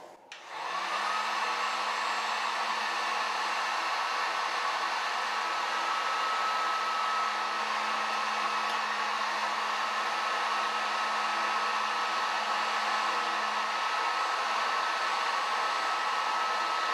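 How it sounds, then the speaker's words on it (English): A Harbor Freight Warrior heat gun blows a steady, loud, constant airy roar with a faint motor whine, used to soften and lift material, running alone after a brief start click. "now we use the heat gun and you'll see how easy it comes off"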